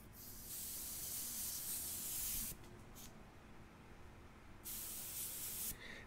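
An airbrush sprays paint in two hissing bursts of a couple of seconds each, separated by a short pause, with a few brief puffs in between; the hiss is close and moderately quiet.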